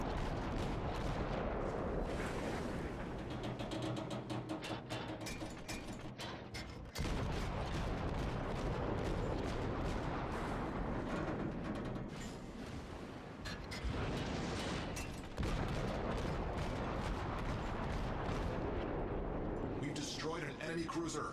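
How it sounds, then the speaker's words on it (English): Naval cruiser guns, a St. Louis cruiser in World of Warships, fire shells in a steady barrage of booming volleys that go on throughout, loud and dense, with game effects layered underneath. "Continuing to pump shells into the enemy cruiser, both ships now shadow each other, stubbornly firing into their adversary."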